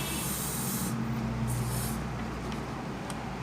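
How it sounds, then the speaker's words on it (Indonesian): Spray paint from an aerosol can is sprayed onto a rubber stamp, giving a continuous close hiss throughout. "Kita tinggal semprotkan saja kalau spray,"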